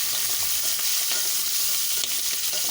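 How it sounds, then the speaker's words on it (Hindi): Chili peppers stuffed with coarsely ground spices fry in a pan, giving a steady close sizzle with stirring scrapes throughout, no talking. "मिर्चें डालेंगे और मिर्चों को भी हम हल्का पहले फ्राई कर लेंगे"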